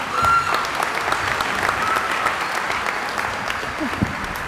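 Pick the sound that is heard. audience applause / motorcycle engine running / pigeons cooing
audience applause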